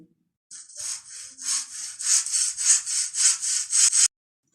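A saw cutting through wood in steady back-and-forth strokes, about a dozen rasping pulls growing slightly louder, then stopping abruptly.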